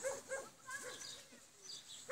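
Several puppies whimper and yip in short high-pitched bursts, close by and fairly quiet, in a makeshift shelter that also houses cats and larger dogs.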